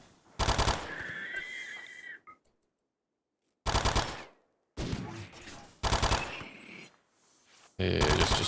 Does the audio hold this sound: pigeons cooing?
no